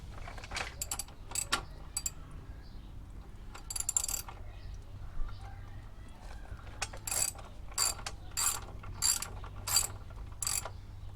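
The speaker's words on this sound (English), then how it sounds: "you use your 17mm hex wrench that fits on the inside of the axle" A ratcheting 17mm hex wrench tightens the axle on a Triumph T120 motorcycle during a tire change, sounding as quiet bursts of rapid metallic clicks in repeated strokes, close by with no talk.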